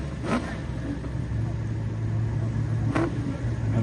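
A 1969 drag race car accelerates at a charity airport drag race, the engine a distant steady roar with a couple of sharper bursts, faint against background noise.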